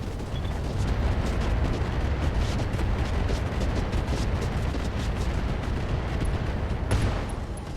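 A mech in RogueTech BattleTech unleashes all its weapons at once, a loud sustained roar of overlapping blasts and explosive rumble that holds steady for several seconds before a sharp burst near the end.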